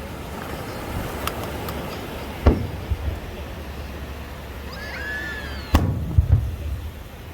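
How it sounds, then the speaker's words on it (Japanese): Fireworks launch over Yuigahama beach at the 76th Kamakura fireworks festival, with two sharp bursts several seconds apart and a rising whistle before the second, all over a steady outdoor crowd rumble. "5号車の花火が上がります。"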